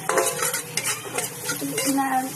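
Turmeric, chilli, coriander and cumin powders being stirred and fried in oil for dal tadka with egg, a close, busy sizzle under repeated rhythmic spatula scrapes and clinks on the pan.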